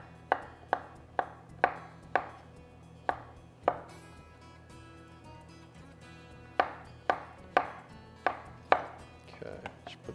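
A knife chops small zucchini into half moons on a cutting board, crisp evenly paced thuds in two close bursts separated by a quiet pause.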